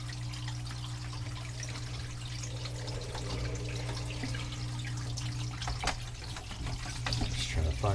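Water runs steadily through a wash plant, a continuous rushing and splashing flow under low mechanical hum, moderately close and without speech.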